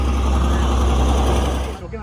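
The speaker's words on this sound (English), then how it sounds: "There's a tractor passing because we're kind of in the middle of the field." A tractor passes nearby in a field, heard as a loud, heavy low engine drone that holds steady and then drops away at the end, with a voice talking over it.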